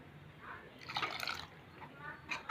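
Water is poured into a pan of potato masala for poori, a faint, brief trickle and splash in a quiet kitchen, with a second short pour near the end.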